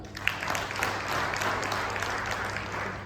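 An audience at a motivational seminar breaks into sustained applause, many hands clapping steadily for several seconds in a full, reverberant hall, with a low hum underneath.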